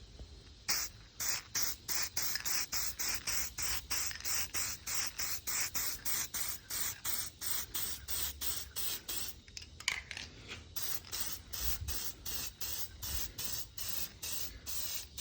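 Permatex copper spray high-temp sealant hisses from an aerosol can in rapid, evenly spaced bursts, a long series of sharp short sprays close to the microphone while working on an E36 swap.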